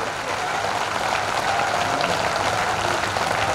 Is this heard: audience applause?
yes